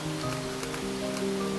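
Evening rain falling on a mountain forest path in Borneo, a dense, even patter of drops that carries on steadily throughout, with a few louder taps standing out.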